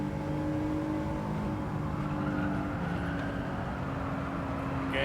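Race cars in Gran Turismo 7, a red Peugeot 208 GTI, a Renault Megane and an Alpine, hold a steady, continuous engine drone with layered tonal whine, close and even throughout with no talk.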